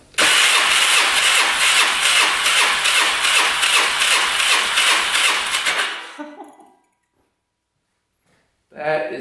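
An ATV engine cranks with the throttle held open during a compression test, a loud, rapid, rhythmic chugging for about six seconds that winds down into silence before a short burst of noise at the end.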